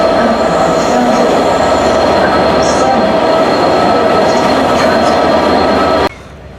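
A Transport for Wales train, locomotive 67022, rolls into a station platform with a steady loud rumble and high wheel squeal, running continuously before cutting off abruptly near the end.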